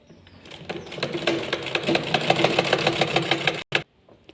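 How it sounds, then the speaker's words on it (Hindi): A sewing machine runs steadily while stitching a fall onto a saree with a medium stitch, a close, continuous mechanical whir with fast rhythmic clatter that stops abruptly near the end. "अब हम इस पर सिलाई लगाते लेते हैं पूरी पर"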